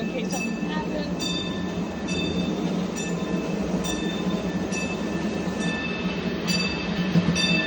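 A model train on a winter-meet model railroad rolls steadily through a tunnel, a continuous rumbling run with faint rail clatter and high whining tones, voices murmuring in the background.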